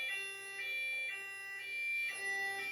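A fire alarm sounds its warble tone indoors in a building system test, a steady rising-and-falling electronic tone that repeats about every half second, fairly faint and alone.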